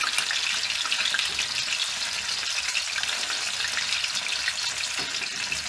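Chopped chicken cutlets fry in a pan with a continuous bright sizzle and crackle, steady and close, with slight rises and dips in the hiss but no pauses.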